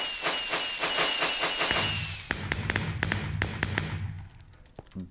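Minecraft fireworks going off in the game, a run of quick sharp pops and crackles with a rising whistle early, then scattered bangs fading to quiet.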